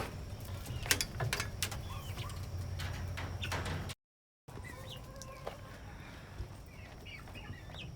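Chickens cluck and coo inside a coop, with soft overlapping calls close by throughout and a short gap of silence partway through.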